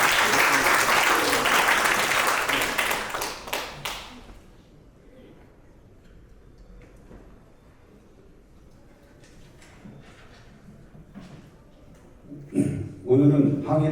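An audience at the 2024 ceremony marking the 104th anniversary of the Battle of Fengwudong claps to welcome a speaker; loud applause lasts about four seconds, dies into a quiet hall, then soft shuffling and brief sounds return near the end.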